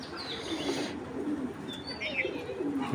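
Giribaz hurricane pigeons coo softly at close range, low murmuring calls with faint chirps and a brief flutter of wings against a quiet background.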